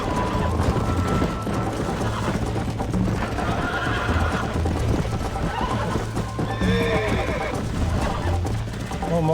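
Horse neighs and galloping hooves from the video game Red Dead Redemption, a continuous loud clip-clop with whinnies, set among game music and effects while a person talks over it.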